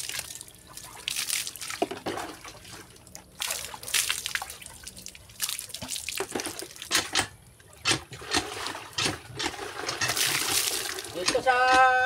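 Water splashes and drips irregularly as someone bathes with laundry soap in a rural province, bursts of pouring and sloshing close by between quieter dripping moments.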